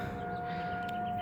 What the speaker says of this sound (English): But the sirens are going off.